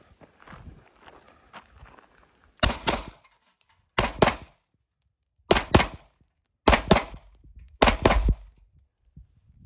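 A Stoeger Cougar 8000 handgun fires five loud, sharp shots, spaced about one to one and a half seconds apart, each with a short echo. Quieter shuffling and handling noises come before the first shot.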